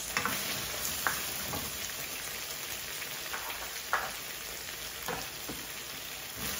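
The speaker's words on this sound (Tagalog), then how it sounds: "Ilagay na natin yung ating bawang at saka sibuyas." Garlic and onion frying in a pan, a continuous crackling sizzle like light rain with occasional soft spatula taps, steady and moderately close, no talking.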